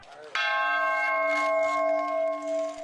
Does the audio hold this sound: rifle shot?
no